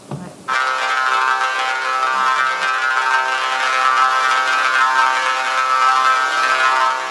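A sustained, dense electronic drone with shimmering harmonic layers from a generative Ableton audio effect rack swells in after a brief moment and holds steadily, loud and unbroken.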